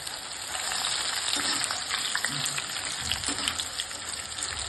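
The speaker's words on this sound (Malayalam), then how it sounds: "ഒന്ന് നല്ലോണം ഒന്ന് പൊരിച്ചെടുക്കാം" Jackfruit pieces fry in hot oil with a close, steady, dense sizzle and scattered popping, with no voices.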